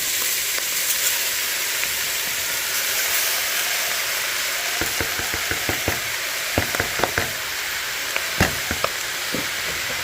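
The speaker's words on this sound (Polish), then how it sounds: "wszystko wsmażymy, podusimy 5-10 minut" Oyster mushrooms frying in a pan give a steady, close hiss of sizzling, broken by scattered sharp clicks and light scrapes of stirring toward the end.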